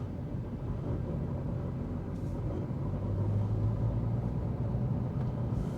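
Steady low engine rumble from a Porsche GT3 boy-racer sports car while driving, a continuous near drone with road noise and no talk.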